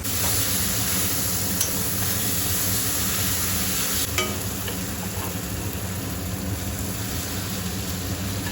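Puri dough frying in hot oil, a steady loud crackling sizzle that runs continuously with a few small clinks and no talking.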